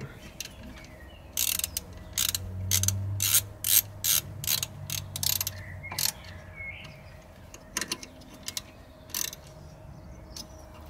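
A ratchet snugs up the bolts on a height sensor of a 4.4 TDV8 Range Rover, making several quick bursts of close, crisp clicking separated by short pauses, with lighter clicks trailing off afterward.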